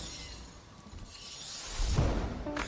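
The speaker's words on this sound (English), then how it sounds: "they reversed that sound of the shattering glass to make it come back again" Reversed shattering-glass effect in a pop song, a swelling whoosh that builds and grows louder toward the end of the short passage before cutting off.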